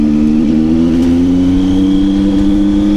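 A Tiger motorcycle revs hard while spinning a doughnut, a loud, close, continuous engine drone whose pitch climbs gently throughout.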